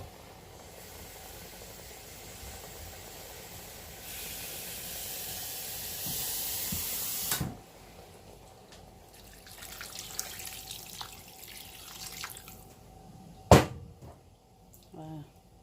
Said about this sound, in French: Là, j'ajoute l'eau